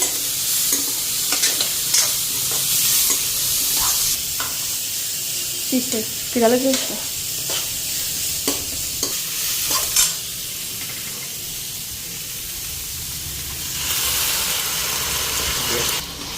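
Cabbage and onion fry in a pan with salt and turmeric, giving a continuous close sizzle broken by scraping spatula stirs; a voice talks briefly partway through, and the hiss swells louder near the end.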